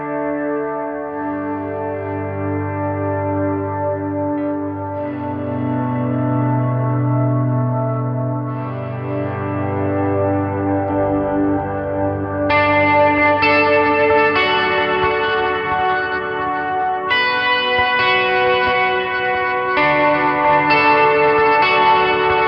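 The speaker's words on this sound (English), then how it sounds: "I also like to put on my first stage drive just to give it a little grit" Electric guitar played through a first-stage overdrive pedal for light grit, sustained chords and notes ringing loud and alone with an effects-laden, chorused and echoing tone, brightening midway as the drive kicks in.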